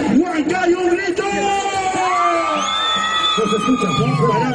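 A concert crowd in Huancayo shouts and whoops loudly, with a sustained rising yell over dense cheering and babble; a voice also speaks amid the din.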